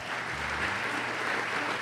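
A concert audience at a tribute show applauds in a steady, dense wash of clapping that fills the whole stretch without a break.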